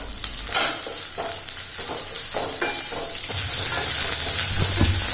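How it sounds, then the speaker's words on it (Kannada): Onions and curry leaves sizzle and crackle while frying in a pan for masala dosa, a loud steady hiss with occasional stirring clinks throughout. "ಈರುಳ್ಳಿನ ಹಾಕ್ತಾಯಿದ್ದೀನಿ ಎರಡರದು ಘಮ ಒಂದು ಚೆನ್ನಾಗಿ ಬರುತ್ತೆ"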